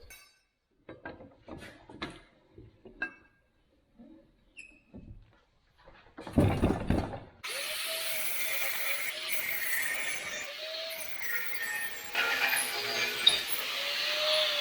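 A power tool cuts through a metal muffler pipe in a workshop: after quiet clamping clinks and a short burst, a loud sustained grinding whine runs steadily to the end, rising and falling slightly as the blade bites.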